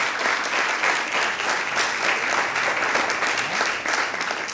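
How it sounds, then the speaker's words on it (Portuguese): Worshippers in a church break into loud, continuous applause, many hands clapping at once in a thick, even roar that holds from start to finish. "Mais fortes palmas para Deus."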